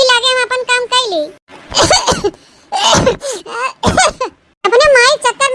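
An elderly woman coughs in several harsh, close bursts, mixed with loud voices talking and exclaiming in a comedy sketch scene.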